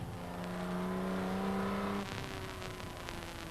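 A Jaguar race car accelerates on the Le Mans track toward Arnage, a steady engine drone rising in pitch and then shifting lower after a gear change, heard from onboard with no talking.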